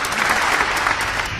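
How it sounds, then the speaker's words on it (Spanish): A short burst of steady, dense applause from a small audience, filling the whole moment without speech. "Vamos a démosle un aplauso a la hermanita negra"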